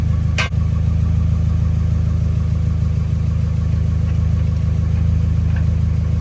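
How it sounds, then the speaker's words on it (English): Engine of a Mazda Miata NB with a newly installed two-row aluminum radiator, idling or running steadily with a low, even drone close by, and one brief click near the start. "send him on a test drive and see what happens"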